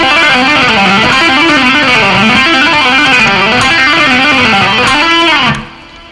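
Fast legato lick on an overdriven electric guitar in a rock style, a continuous stream of rapid flowing notes played up to speed, loud and alone, ending with a sudden cut to near silence.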